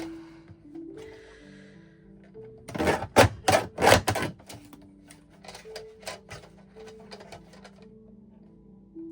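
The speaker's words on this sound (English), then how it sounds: "I'm trying to use my decal trimmer." Electric decal trimmer running in short loud mechanical bursts, a rapid chattering cluster followed by quieter intermittent clacks, close by over a low tonal hum, no talking.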